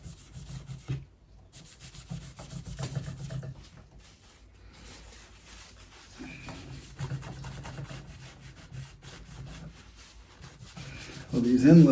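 A cloth rubs excess black ebonizing dye off the fretboard of a 2010 Jackson RR24 guitar, giving a steady, faint scrubbing and swishing texture that swells into a louder rub near the end.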